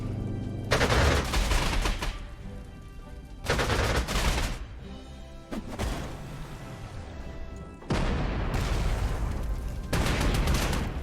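An anti-aircraft gun fires in anti-tank mode in Panzer Corps 2. Four heavy, loud blasts arrive a few seconds apart, each followed by a rumbling, crashing tail.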